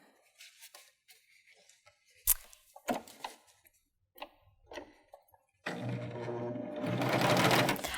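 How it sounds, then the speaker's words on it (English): A Baby Lock Euphoria sewing machine stitches a denim hem, starting with a few handling clicks and taps, then breaking into a steady, close mechanical whir that speeds up toward the end. "Now let's look at how the machine handles some denim"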